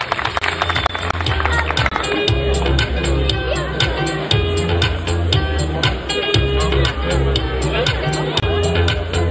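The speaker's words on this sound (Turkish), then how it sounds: "Abdurrahim Orhan Bey'e şöyle güçlü bir alkış" A crowd applauds at a concert marking Kemaliye's centennial. The clapping is dense and steady for the whole stretch, over a heavy, booming low musical backing and general crowd hubbub.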